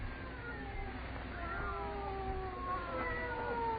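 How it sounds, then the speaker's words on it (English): Several cats meow and caterwaul with long, wavering, rising and falling yowls that overlap steadily for several seconds inside a very quiet house at night, moderately close and continuous. "They're not ordinary cats. Listen to them."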